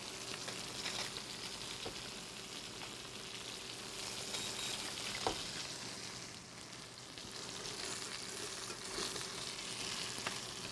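Stuffed salmon fillets fry in a pan, a steady close sizzle and crackle running without a break, with a few faint clicks and stirs over it and no talking.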